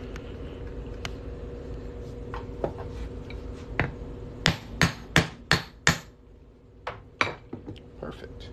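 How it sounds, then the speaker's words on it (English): Sharp, ringing hammer blows drive a punch through a New Mexico quarter coin held under paper towel, about ten metallic strikes in two quick bursts, close up over a steady low hum. "Grab our punch and hammer it on through."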